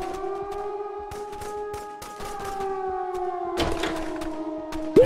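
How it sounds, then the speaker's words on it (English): Wailing siren in the Zompiercer video game, a steady sustained tone held over a background of irregular thumps and bangs, with a sharp burst near the end. "is that the siren?"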